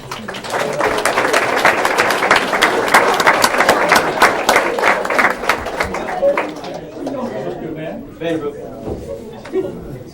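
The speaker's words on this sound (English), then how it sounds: "Let's go a good round of applause for the most school spirit" A school awards crowd bursts into loud, sustained applause for a most-school-spirit honoree, dense clapping for several seconds before it thins into scattered claps and chatter.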